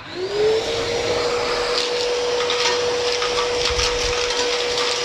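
A vacuum cleaner, one that also works as a blower, runs loud and steady with a rising motor whine as it sucks up stones, scattered rattling clicks from the stones heard over the continuous roar.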